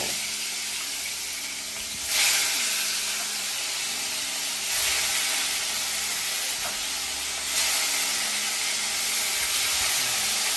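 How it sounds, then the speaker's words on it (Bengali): Fish slid into hot oil in a kadai, giving a loud, continuous hissing sizzle that swells in a few waves and holds steady throughout without any voices. "চলো কড়াইতে মাছ ছেড়ে দিলাম"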